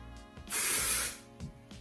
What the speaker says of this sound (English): It's flexible texturizing spray.